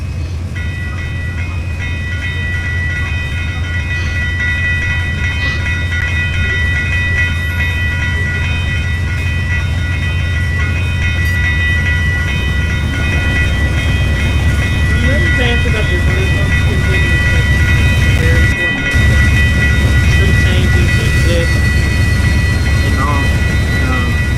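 In the Trainz video game, an Amtrak train rolls steadily past an active level crossing, its loud rumble and wheel noise running throughout while the crossing bells ring on; someone talks over it.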